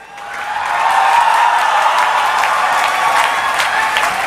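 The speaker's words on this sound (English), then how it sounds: "gather all your energy to applaud for Abhinav Shikhre Chandrasekhar." Audience applause fills a convocation hall at an engineering institute, a dense steady wash of clapping that swells within the first second and holds loud and even throughout.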